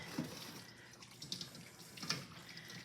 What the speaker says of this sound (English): so I'm just going to add the cold water.